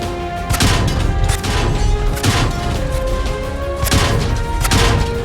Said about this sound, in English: Low damage sounds like this.